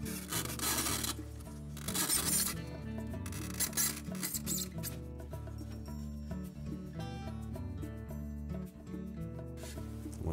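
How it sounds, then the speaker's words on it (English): A friction-fit styrofoam block pulled up out of the floor of a GE refrigerator's freezer, giving close, continuous squeaky rubbing and creaking. "Now we're going to remove this styrofoam block. And take caution when pulling that up out of there."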